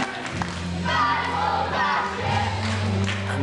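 A Runcorn crowd at a wrestling show fills the hall with a steady, loud roar of chanting and shouting, with occasional thumps underneath.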